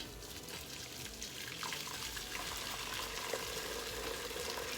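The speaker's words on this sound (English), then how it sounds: "so we're gonna strain this off right now. Just wanna strain it in another pot or anything that you have guys." Jamaican carrot punch liquid is strained from one pot into another, making a steady, quiet pouring and trickling of liquid with no talking.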